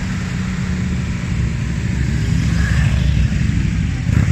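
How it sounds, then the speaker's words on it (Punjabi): Several motorcycles approach, their engines a steady low rumble that builds gradually louder as they come closer. "ਇਹ ਮੋਟਰਸਾਈਕਲ ਇੱਧਰ ਆ ਰਹੇ ਨੇ।"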